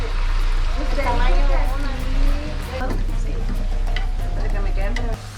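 Potatoes sizzle and crackle in hot oil with occasional stirring, while people talk nearby over the frying.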